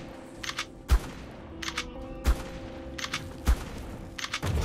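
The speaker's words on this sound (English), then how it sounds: "just go ahead and shoot the Broodmother" Gunfire aimed at the Alpha Broodmother in ARK, heard as a steady sequence of sharp, loud shots about one every second, each with a short burst of higher crackle between them.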